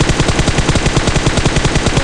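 Bots in a shooting video game fire a rapid, continuous stream of automatic gunshots, loud and close, with a steady rattling rhythm and no voices over it.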